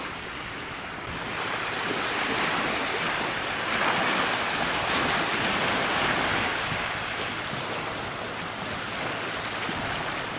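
Ocean surf washes continuously onto a white-sand beach in Lakshadweep, a broad roaring hiss swelling and easing, mixed with wind buffeting the microphone.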